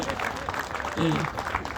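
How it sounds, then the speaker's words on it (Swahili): A church congregation of the FGCK in Kenya applauds to honour Gogo, a short burst of clapping from the crowd heard underneath a speaker's voice. "Si makofi kwa Gogo jameni"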